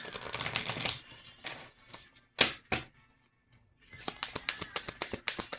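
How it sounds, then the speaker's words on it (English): A deck of cards being shuffled in two bursts of quick riffling clatter, separated by a few soft taps and a short pause, close and fairly quiet. "I gotta shuffle these because you're bowed funny."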